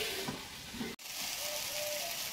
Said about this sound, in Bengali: তারপরে এবার একটু ভেজে দেবো।